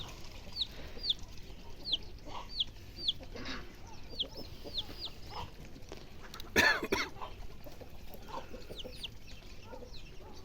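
Chickens cluck repeatedly in a steady series of short calls, moderately near, with a sharp cough-like noise midway.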